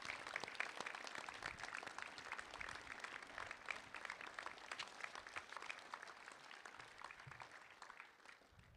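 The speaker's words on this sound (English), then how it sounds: "have a final round of applause for all our scholarship winners" A school assembly audience at King's High School gives a final sustained round of applause for scholarship winners. The dense, steady clapping sounds quiet and distant throughout.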